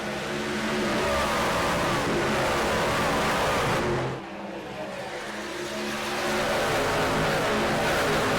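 Race cars on the track at Daytona roar continuously as they accelerate on a green flag restart, a loud, dense engine wash that briefly dips in the middle before building again.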